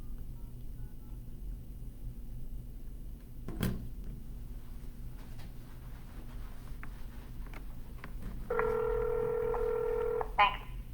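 Telephone keypad tones sound in a quiet office during a real estate cold call, first a faint sequence of short beeps, then a louder steady multi-tone burst near the end, with low background hum.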